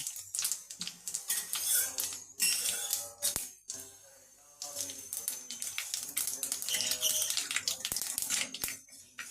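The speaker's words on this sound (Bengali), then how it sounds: "কড়াইয়ের মধ্যে সর্ষের তেল দিয়েছি। তেলটা আমার গরম হয়ে গিয়েছে। এখানে সাদা জিরে আর সর্ষে একটু ফোড়নে দিলাম।" White cumin and mustard seeds crackle and pop as they temper in hot mustard oil in a kadai, a busy, close spitting sizzle with rapid sharp ticks that briefly thins and then surges again.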